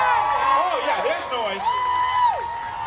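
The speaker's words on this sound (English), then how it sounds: "Scream, cheer him on." Crowd shouting and cheering at a firemen's muster as a team climbs the ladder, loud and continuous, with excited shouts and raised voices rising and falling over the din.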